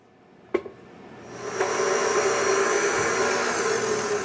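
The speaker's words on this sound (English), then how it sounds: "I'm going to mix that together in my stand mixer" Stand mixer fitted with a dough hook working an egg-enriched dough for cinnamon rolls, a steady motor whir that starts after a sharp click and builds into a continuous loud drone.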